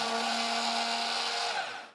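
A Smart Stick PowerTrio CSB-80 handheld blender with food processor attachment runs with a steady, close, high motor whine, heard alone, that holds for about two seconds before it starts to wind down.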